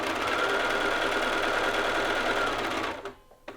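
A sewing machine stitches a coat lapel, a fast steady mechanical whirring hum running continuously up close, then stopping abruptly with a few small clicks afterward.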